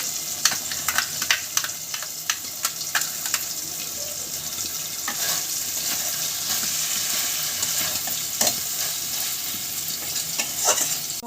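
Okra sizzling and frying in a pan with a paste of mustard, poppy seed and green chilli, a continuous crackling hiss broken by spoon stirs and light clinks, with no talk.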